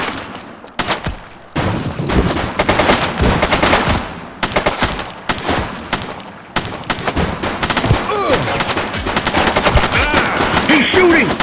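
Rapid gunfire from a suspect in The Precinct, with repeated bursts of shots crackling loud and close across the whole stretch. Brief radio-style voices are heard between volleys.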